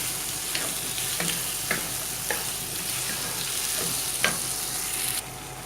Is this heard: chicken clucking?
no